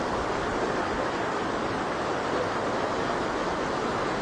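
A strong current rushes through a swollen creek in Occidental Mindoro, a loud, continuous broadband roar of water without pause or voices.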